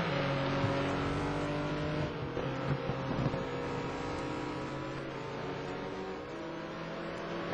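Onboard a race car lapping Mugello in the 2009 STC Black Cup with driver Rami Kaukola: a loud, close, continuous engine drone with shifting harmonic tones, steady throughout with no voices.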